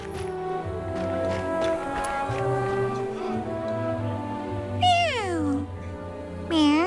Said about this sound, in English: This cat keeps staring at Rhythm.